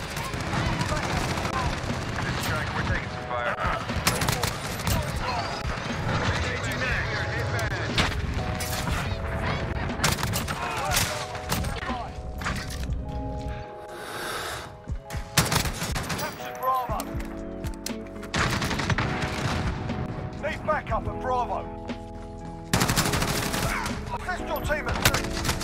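Close, loud shotgun blasts and other weapon fire in the video game Call of Duty: Modern Warfare repeat in dense, irregular bursts, with a brief lull midway and a player talking over the action.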